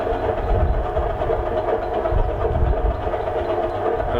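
A new electric cement mixer runs steadily with its drum turning, a loud, continuous mechanical hum and rumble heard close up, with faint rhythmic churning and no voices.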